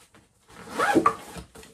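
A zipper is pulled along the large lid pocket of a Tashev Vihren 40 backpack, giving one brief close rasping zip that trails off into a quieter rustle.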